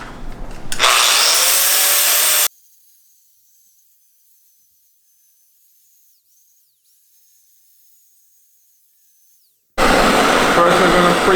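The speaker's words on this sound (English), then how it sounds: "I'm gonna have to like grind all the edges over here down." An angle grinder grinding rust off the edges of a Garrett GT3076R turbo housing, a loud high whine for about two seconds, then silence, then grinding resumes loud near the end.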